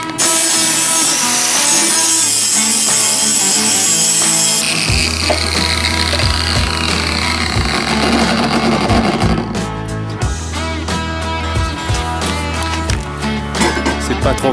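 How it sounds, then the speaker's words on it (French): A power tool cuts bevels into steel plates for welding on a workbench, making a loud continuous grinding roar that drops into a rougher, rattling cut partway through. "Donc là Renaud va nous faire des biseaux pour qu'on puisse souder sur le dos qui vient se coller à l'établi."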